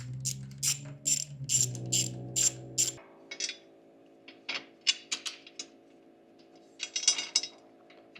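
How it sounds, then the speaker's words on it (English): Ratchet clicking in short bursts while bolts come off the valve cover of a MechMaxx 1000cc 35hp gas wood chipper engine, a steady hum underneath for the first seconds, then sparse, close mechanical clicks. "So we're taking these two bolts out right here."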